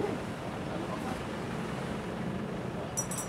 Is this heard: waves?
yes